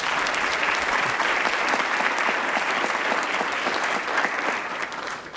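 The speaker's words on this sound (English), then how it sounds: "please give them a huge round of applause" An audience at a 45th commencement ceremony gives a long, loud round of applause, dense continuous clapping from a large crowd that holds steady and then begins to taper at the end.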